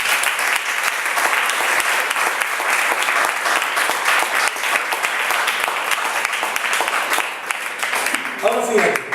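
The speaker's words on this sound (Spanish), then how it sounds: "Bríndele fuerte el aplauso a Reina y Gloria" Congregation in a church service applauding loudly, a dense sustained wash of clapping from a large crowd that holds steady throughout, with a few voices rising near the end.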